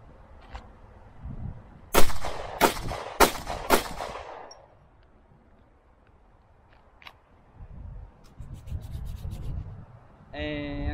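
A Canik MC9 pistol is drawn and fired at a target: four sharp, loud shots in quick succession, with rustling and handling noise before and after and a faint voice at the end.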